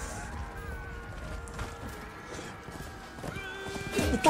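Horse hooves clip-clop and a horse whinnies in the medieval combat video game Chivalry 2, with clashing game sounds and some faint voices underneath.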